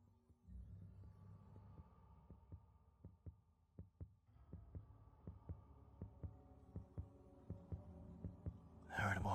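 A heartbeat sound effect in a spooky Halloween ASMR setting: a soft, steady thump pulses about once a second beneath a low hum, growing slightly stronger, with a brief brighter noise at the very end.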